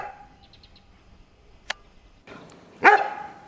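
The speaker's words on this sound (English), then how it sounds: "My puppies are literally barking at the cows across the street." Dogs on a farm bark at cows across the street: a quiet stretch with a single sharp yip, then a louder bark near the end. Faint bird chirps sound in the background.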